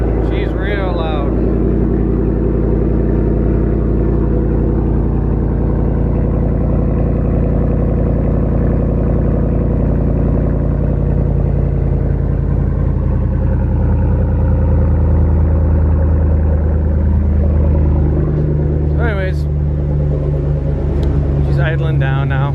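A loud Hemi 5.7-liter V8 exhaust idles close by with a deep, continuous rumble that steps down slightly partway through. Brief higher squeaks come at the start and near the end.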